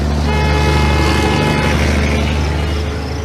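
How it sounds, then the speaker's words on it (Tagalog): A jeepney pulls up near a busy, smoky terminal, its loud engine rumbling steadily with a honking horn blaring over the din. "Lumapit na ang jeep."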